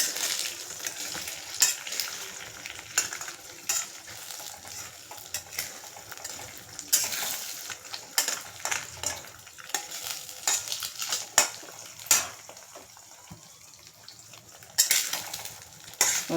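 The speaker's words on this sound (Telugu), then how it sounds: "ఒక 2 మినిట్స్ అయిన తర్వాత దీన్ని కొంచెం ఇలా కదుపుకుంటే, కదపకపోతే మళ్ళీ అడుగున మాడిపోతుంది." Beaten egg for egg fried rice sizzles and fries in a pan while a utensil stirs and scrapes it, with irregular clinks and scrapes over a steady crackle, close and fairly quiet.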